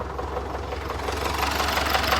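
An MTZ 80 tractor engine pulls a plow through a field, giving a loud, steady diesel rumble with a slightly knocking throb that swells a little toward the end.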